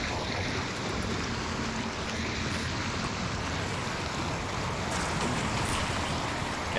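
Water floods a damaged submarine in the Barotrauma video game, a steady loud rushing roar of churning water that stays constant and fills the space with no voices.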